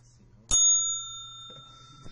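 A single bright strike of a hand bell used as a classroom penalty bell rings out sharply and decays slowly, followed by faint background noise.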